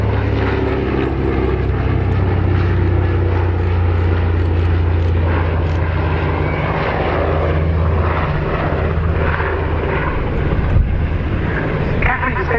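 A Catalina propeller flying boat flies at the RAF Cosford airshow, its loud, steady engine drone and prop buzz filling the air for several seconds while a voice talks over it.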